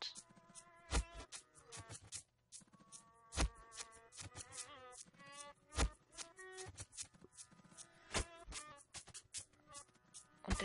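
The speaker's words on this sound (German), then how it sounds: "Und der Sound erinnerte mich so ein bisschen an Mückensummen" Mosquito-like buzzing from the video game The Path, a steady whining drone overlaid with repeated sharp percussive hits and tonal music, moderately loud and continuous with no talk.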